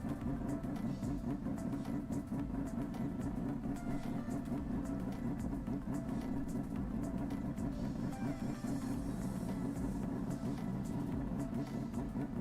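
A race car engine in Assetto Corsa drones in a steady, muffled hum from inside the car, a low rumbling tone with a faint whistling hiss like a large kettle boiling, holding constant throughout.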